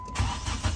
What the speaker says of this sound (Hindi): ये देखिए, गाड़ी स्टार्ट हो गई है।